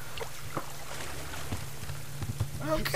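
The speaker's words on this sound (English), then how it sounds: "It just will not stop raining." Steady rain falls in the survival game Subsistence, a constant diffuse patter with a low hum underneath and a few scattered taps, ending in a brief louder clatter.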